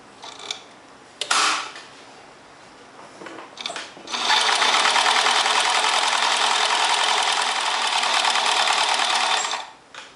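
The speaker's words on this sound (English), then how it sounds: "Instead of doing stitching on the wrong side, I'm going to stitch on the right side." A sewing machine stitches on the right side of dress fabric for a 1946 Vogue pattern. A few soft handling knocks come first, then a loud, close, steady mechanical whirr runs for about five seconds before stopping.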